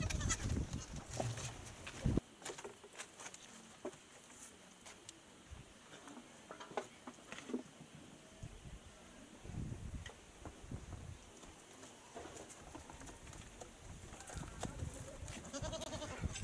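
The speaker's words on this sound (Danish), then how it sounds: "Gruppen har fået en ny slags geder" Goats in a small village stable bleat now and then over a faint windy background, scattered calls and rustling clicks spread through the stretch with no one talking.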